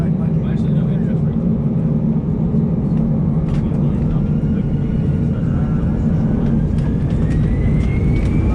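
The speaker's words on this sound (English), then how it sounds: "took off out of the gloom of Luton and emerged a few seconds later into a beautiful sunny" A Boeing 737 jet takes off from Luton airport, a loud, steady engine roar with a rising whine toward the end.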